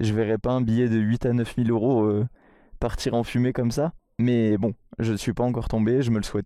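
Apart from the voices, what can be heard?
None of the usual background noises is heard.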